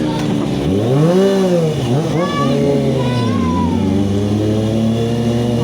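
Kawasaki ZX25R sport motorcycle engine revved up near the microphone in a single throttle blip, pitch sweeping up and falling back before settling into an idle, with a few faint voices around.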